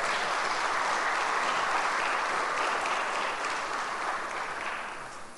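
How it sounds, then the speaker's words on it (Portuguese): Steady applause from a large audience at a formal evening ceremonial session, dense and sustained throughout before easing slightly at the end. "Uma salva de palmas."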